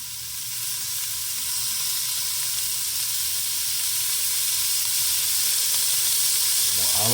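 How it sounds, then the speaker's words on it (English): Shallots sear in a braising pot with olive oil, giving a steady close sizzle and hiss that builds slightly and holds for several seconds with no voices. "Some shallots. Let that sear for a little while."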